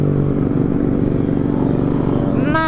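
An expensive motorcycle roars loudly past at close range on a night ride in Lembang, its dense engine rumble steady throughout, with a brief tonal sound at the very end.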